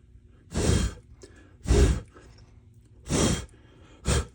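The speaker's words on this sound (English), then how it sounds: "It's probably funny I'm blowing right in the camera." Someone blowing air right into a camera while painting a Recover Tactical P-IX, four loud, close breathy puffs spaced roughly a second apart.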